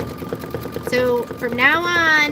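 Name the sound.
sewing machine stitching embroidery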